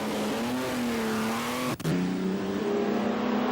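ERA R4D historic racing car at the Goodwood Festival of Speed, its engine revving hard and climbing in pitch, a brief break at a gear change, then pulling on strongly and close.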